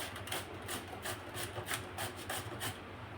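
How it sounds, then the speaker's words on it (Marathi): Potatoes being grated on a hand grater into a plate of water for sabudana-potato papad, giving a steady rhythmic rasping scrape with repeated strokes at close range, no talking. "या किसणीवरती आपण हे आलू असे किसून घेणार आहोत"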